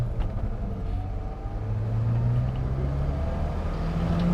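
A turbocharged Saturn car accelerating under boost, heard from inside as a loud, steady engine drone whose pitch climbs smoothly over a few seconds, with no speech.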